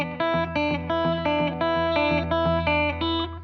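An electric guitar in a rockabilly style plays a bouncing pattern that alternates bass and treble notes, with distorted tone and a touch of reverb, each picked note ringing clearly in a steady, even rhythm.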